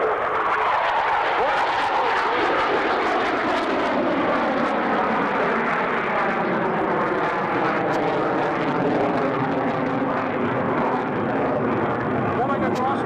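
A CF-18 fighter jet roars through a square loop at an airshow, a loud continuous engine rush whose pitch sweeps steadily downward as the aircraft pulls away, without a break for the whole stretch.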